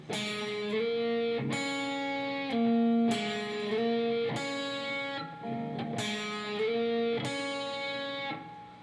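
An electric guitar plays the first part of a song slowly, with repeated strummed chord stabs and single notes ringing out in a loose, unhurried rhythm, fairly quiet and alone.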